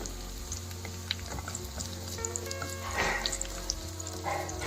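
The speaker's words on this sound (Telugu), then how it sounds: "కొద్దిగా జీడిపప్పు కూడా వేయించుకోవాలి రెండు కలిపి ఎర్రగా రావాలి" Cashew nuts fry in hot ghee with a steady, close sizzle and light crackling that runs throughout, no talk over it.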